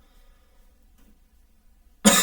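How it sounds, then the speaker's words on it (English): Near silence broken by a single loud, harsh cough close to the microphone at the very end. "Sorry, I have a cough."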